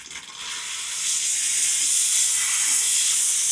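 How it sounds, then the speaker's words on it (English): A steam cleaner jets a loud, steady hiss of pressurized steam around a bathroom sink, building up over the first second and then holding constant and close. "we're just gonna steam some target areas that are really hard to reach unless you have the pressure from steam"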